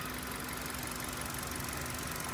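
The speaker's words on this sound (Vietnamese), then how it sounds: "Đó, máy nổ rất êm luôn," A 2010 Kia Cerato with a manual gearbox and its original engine idles steadily and smoothly, a continuous close engine hum with no break and no talking.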